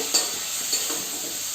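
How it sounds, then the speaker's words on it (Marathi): Onion, tomato and masala fry in a pan with a soft, steady sizzle and two light stirring scrapes. "आता इथे आपला कांदा मसाला टोमॅटो सगळं फ्राय झालाय."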